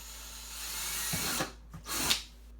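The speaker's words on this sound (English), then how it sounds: "drill 1/8 of an inch hole, like a pilot hole first" A power drill bores a 1/8 inch pilot hole for water nipples, whirring close and loud, then cutting off into two short final bursts.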